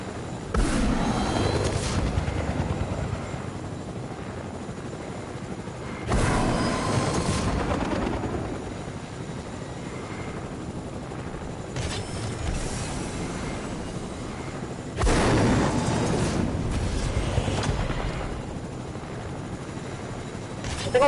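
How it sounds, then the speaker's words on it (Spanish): Helicopter in a video game: a continuous, heavy rotor and engine rumble with periodic swells and louder bursts, sustained and close. "No, no coge con el helicóptero, qué mal."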